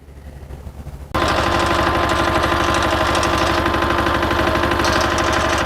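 A putting green roller's engine is held at low RPM, bursting in loud and close after a quieter opening second, then chugging on with a fast, rhythmic, throbbing pulse.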